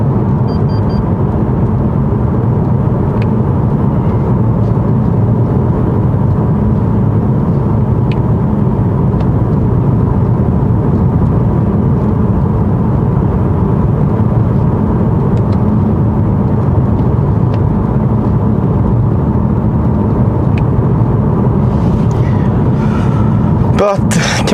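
A BMW M5 Competition accelerates hard, a loud, continuous low engine roar and road rumble heard from inside the car, sustained for over twenty seconds with little letup.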